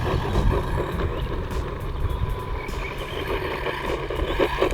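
An RC truck drives at low throttle, its electric motor giving a steady whirring hum with rumbling tire and ground noise underneath, close and continuous without speech.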